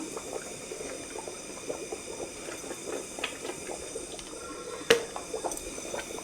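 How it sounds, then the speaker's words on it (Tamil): Water bubbling at a steady rolling boil in a pot, a continuous crackle of popping bubbles with a single sharp clink near the end. "நல்லா கொதிக்குது இந்த டைமில் வந்து கொஞ்சம் நெய் சேர்த்துக்கலாம்"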